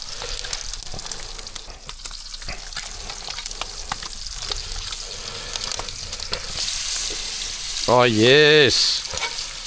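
Bacon fries in salted butter with extra salt over an open braai fire, a loud continuous crackling sizzle with stirring noises close by; near the end a brief wavering voice sounds over it.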